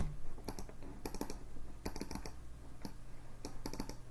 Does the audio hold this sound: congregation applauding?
no